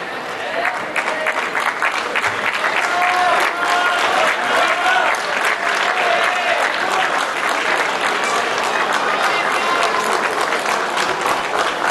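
Home crowd applauding and cheering at a Singapore versus Malaysia men's team table tennis match at the 2017 SEA Games, loud sustained clapping filling the hall throughout.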